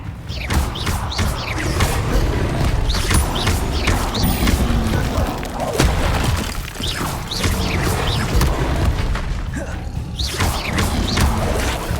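Incendio fire spells are cast over and over in Hogwarts Legacy, giving a steady stream of loud crashing, thudding bursts and whooshing impacts that repeat in rapid succession throughout.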